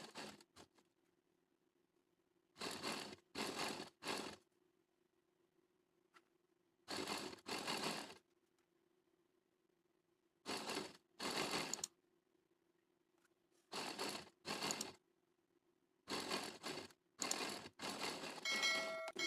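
A sewing machine stitches lace onto a garment hem in short rattling bursts of about a second each, separated by quiet pauses, close and fairly faint.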